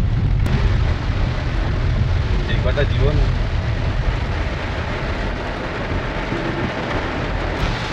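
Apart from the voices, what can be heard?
heavy monsoon rain while driving a car by the sea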